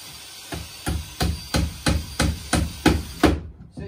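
A hammer drives nails into wood for a koi pond roof, striking about nine loud, evenly spaced blows close by, with no talking.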